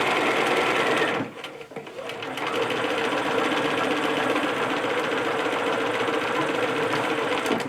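Sewing machine stitching a shirt, running in a steady loud whir with a brief pause near the start before resuming continuously up close.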